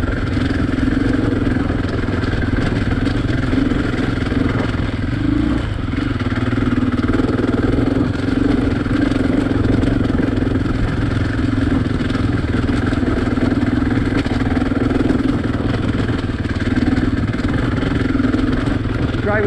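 Husky 501 motorcycle engine on rough, technical desert terrain, a loud continuous close rumble with rattling clatter and small shifts in revs, with no talking.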